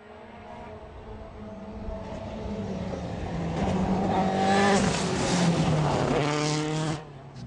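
A rally car on a French tarmac rally stage revs hard with rising and falling engine pitch, growing louder as it nears, with tire noise and a sharp drop-off at the end.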